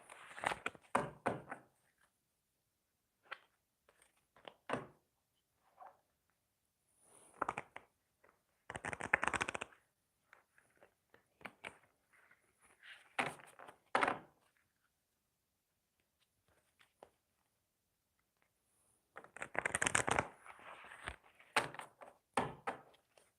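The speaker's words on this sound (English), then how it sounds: "It takes me just a minute to shuffle" Intermittent soft shuffling and tapping of round cards in bursts, close and quiet, with pauses of near silence between handling sounds.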